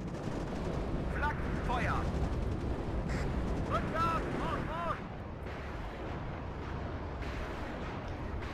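The RM70 rocket launcher fires in the strategy game Warno, a rapid rolling barrage of booming launches that dies down halfway through, with soldiers' voices heard over the noise.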